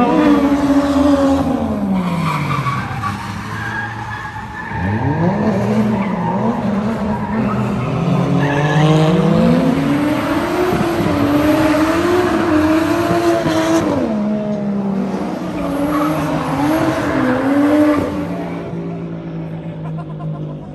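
A car drifting on a Japanese road with the handbrake pulled, tires squealing loudly and continuously over a revving engine for about twenty seconds, the screech rising and falling in long sweeping arcs.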